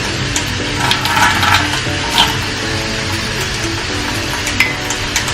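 Spoon stirring a tablespoon of ground flaxseed into two tablespoons of water in a small bowl, a steady scraping and clicking texture with soft taps, close and continuous for several seconds with no talking.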